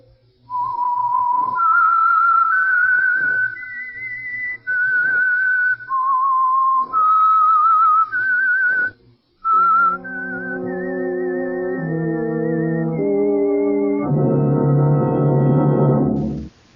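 Someone whistles a slow tune of held notes that step up and down, then a band of brass-like chords swells in and builds louder.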